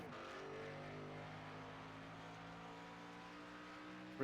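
Engine of the M&M's Toyota Supra race car, a steady sustained drone with layered harmonic tones holding throughout, loud and continuous with no talk.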